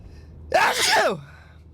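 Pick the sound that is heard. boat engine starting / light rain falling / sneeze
sneeze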